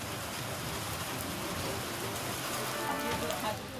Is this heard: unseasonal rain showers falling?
yes